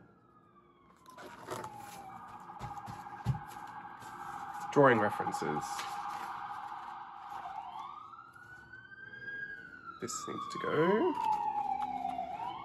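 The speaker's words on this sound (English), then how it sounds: "Sorry about the sirens." Emergency vehicle sirens wail outside, rising and falling in long sweeping tones that carry on steadily while a person speaks nearby and paper rustles and tears.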